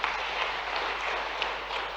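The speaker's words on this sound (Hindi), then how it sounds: "माननीय प्रधानमंत्री जी का एक बार फिर जोरदार ताली बजा के अभिनंदन करें" An audience at a state-level weavers and artisans conference in Bhopal applauds the Prime Minister, giving steady, dense clapping that holds at an even level from start to finish.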